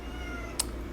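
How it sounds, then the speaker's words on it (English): A cat gives a single short meow, soft and brief, over a low steady background hum. "that was the kitty talking"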